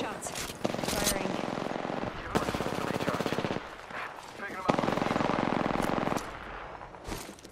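Sustained automatic gunfire in a first-person shooter video game, loud bursts lasting a second or more separated by short gaps, with a voice speaking in between.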